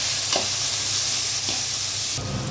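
Onions and tomato fry in a pan for restaurant-style prawn dum biryani, giving a steady broadband sizzle with a few soft stirring scrapes, close and fairly loud, with no voices.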